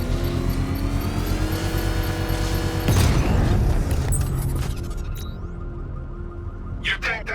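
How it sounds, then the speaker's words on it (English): Controlled detonation of an exposed bomb payload, set off with a power winch in Batman: Arkham Knight, as one deep booming blast rolls out over steady mechanical rumble before sharp metallic clatter follows. "I can use the power winch to trigger a controlled explosion."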